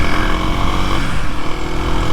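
A Kawasaki KLX 300SM motorcycle engine running steadily and loudly up close, a continuous droning hum with no talking.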